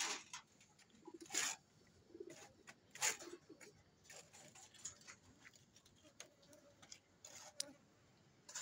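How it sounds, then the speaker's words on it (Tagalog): Pigeons or doves coo softly at a distance in scattered, repeated calls, mixed with faint ticking clicks and a quiet outdoor hush. "Yun ang mga ibon dito."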